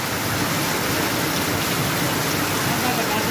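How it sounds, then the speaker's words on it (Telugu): Heavy rain pours without pause in Hanumanipad, a loud, even wash of drops hitting surfaces that continues from start to finish. "గంట అవుతుంది వాన స్టార్ట్ అయ్యి"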